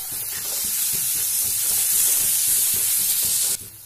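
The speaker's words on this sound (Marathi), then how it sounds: "दोन मिनिट छान कैरी मी तेलामध्ये परतून घेतलेली आहे." Grated raw mango sautés in hot oil with a loud, close hiss of frying, broken by rhythmic scraping strokes of a spatula stirring it; the sizzle cuts off sharply near the end.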